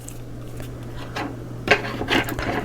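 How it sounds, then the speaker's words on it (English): A few close, short crisp snips and rustles of paper being cut, irregularly spaced over a faint low hum. "I'm just going to cut them"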